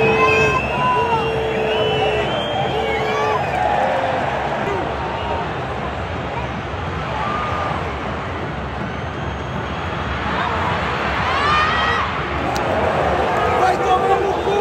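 Dense, steady hubbub of a huge football crowd at the Allianz Parque during a Palmeiras–Corinthians derby, tense murmuring and chanting swelling in waves, with no clear single voice standing out.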